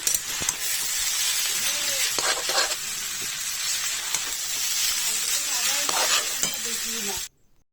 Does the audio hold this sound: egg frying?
yes